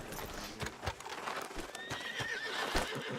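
Hooves clip-clop on hard ground while a horse whinnies in a video game (Red Dead Redemption 2), with faint ambient noise behind.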